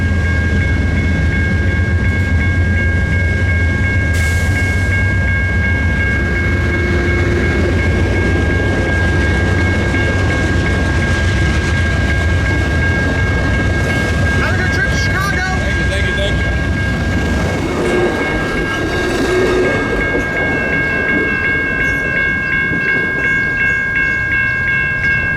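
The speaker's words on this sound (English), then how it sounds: "the train throttled up and headed out of Galesburg" Amtrak train throttling up and departing Galesburg station, a loud continuous diesel rumble with rail clatter and a steady high whine, building and rolling past over the whole stretch.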